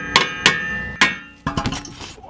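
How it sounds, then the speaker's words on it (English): A hammer strikes a Honda Civic front suspension ball joint in a quick series of sharp metallic whacks, three spaced hits followed by a tighter cluster of blows, close and loud. "give it a couple whacks"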